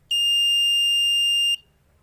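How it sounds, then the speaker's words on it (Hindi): A buzzer on a Cretile robotics kit, set off by its light sensor, gives one loud, steady electronic beep lasting about one and a half seconds, then falls silent. "देन उनके बाद बजर बज रहा है"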